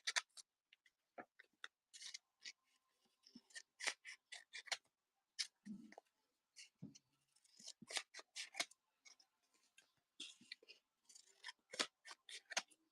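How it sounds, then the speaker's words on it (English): A newly bought pair of scissors cuts in a quiet room, with many crisp, close snips and rasping blade scrapes arriving in irregular bursts, some catching roughly, with no one talking. "I just bought this pair of scissors,"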